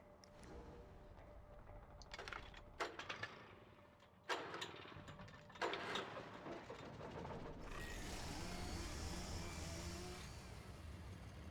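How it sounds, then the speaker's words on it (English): A chainsaw in the video game Alan Wake Remastered revs in a steady, loud, buzzing drone through the second half, after a series of sharp mechanical clunks and bursts. "That's not the sound of the generator, that's the sound of a chainsaw."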